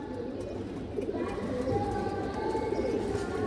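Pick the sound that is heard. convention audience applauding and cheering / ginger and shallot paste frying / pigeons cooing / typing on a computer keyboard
pigeons cooing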